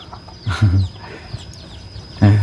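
Chickens and ducks cluck and squawk close by on a farm, with a few loud bursts at the start and end and quieter clucks between them.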